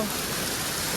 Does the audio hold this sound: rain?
yes